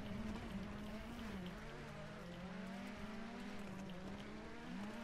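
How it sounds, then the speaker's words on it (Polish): Ford rally car engine in the WRC 6 racing game, a continuous droning hum with shifting pitch as revs rise and fall, steady and fairly loud throughout with no talking. "Słyszę twój silnik, jak jedzie Forda."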